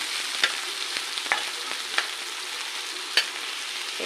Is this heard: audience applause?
no